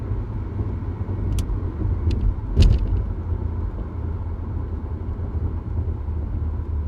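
Inside a 1983 VW Quantum GL5 wagon cruising at 65 mph, a quiet, steady low road rumble carries on throughout. A few brief ticks and one soft thump come early on, and no one speaks.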